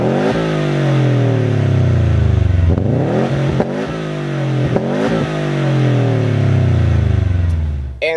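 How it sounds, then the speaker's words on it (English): A 2017 Subaru STi fitted with an upgraded Sports STi exhaust revs hard and close, its engine note climbing and falling through several sharp throttle blips with a loud, steady drone and no talk. "This particular example also came with the upgraded Sports STi exhaust."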